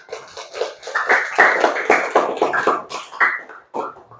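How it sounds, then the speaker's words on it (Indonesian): Classroom of students clapping together on cue during a lesson, a lively burst of close hand claps with a few voices mixed in, lasting about four seconds. "Tepuk tangan."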